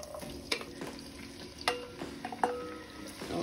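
Callaloo and saltfish sear in a pot while being stirred, a soft steady sizzle broken by scattered spoon scrapes and clinks against the pot, close and fairly quiet.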